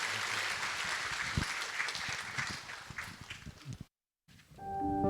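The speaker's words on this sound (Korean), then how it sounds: "출산 장려금 드릴 때 박수로 축하해 주시기 바랍니다" Congregation in a Korean church Sunday service applauding a childbirth grant presentation, moderate clapping that thins out, breaks off into silence, then gives way to a keyboard tone.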